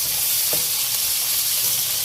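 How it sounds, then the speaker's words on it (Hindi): Tomatoes and onions fry with spices in a pan, making a loud, steady, close-up sizzle and hiss with a faint stir or two and no talking. "और इन सब चीज़ों को मसाले के साथ अच्छी तरह भूनना है।"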